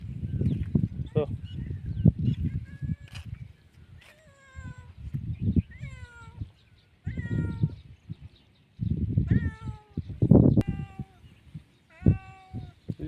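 A hungry stray cat meows repeatedly in short rising-falling calls, close by, with a person talking over and between the cries.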